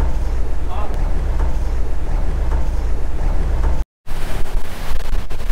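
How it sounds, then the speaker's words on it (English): Solaris Power 44 motor yacht running through big swell at sea, heavy water rushing and wind buffeting the microphone in a loud continuous roar, with a brief dropout near the end. "It is a properly up sea. There is big swell, water pouring out the back, but no water coming on board."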